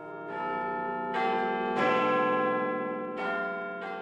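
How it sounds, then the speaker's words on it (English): Several clock tower bells struck one after another, each clear metallic tone ringing out and decaying slowly, with overlapping strikes of different pitch and no voices. "Manual labor is required to strike different sounding bells"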